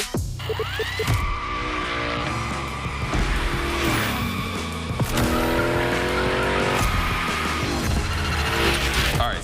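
A Hoonicorn car slides through practice drifts in The Crew Motorfest, with a loud, steady engine roar and repeated tire squeals rising and falling across the run, sounding close and continuous.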